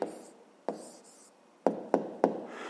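A pen writes an answer by hand on paper during a fifth-grade maths lesson: scratchy strokes broken by five sharp taps as the pen meets the page, close and fairly quiet.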